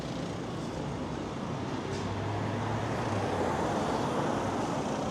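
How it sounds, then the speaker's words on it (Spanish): Steady roadway traffic on a Cuban city street, with cars and motorbikes passing as a continuous broadband wash at moderate level, no voices. "Solo se siente nada más el sonido de los autos, de las motos."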